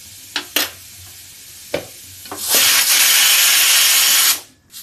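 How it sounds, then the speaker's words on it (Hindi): Ragi flour grinding in a kitchen mixer jar: a few sharp knocks and clatters, then a loud, steady whirring roar for about two seconds that stops abruptly. "अब इसे ग्राइंड कर लेती हूँ।"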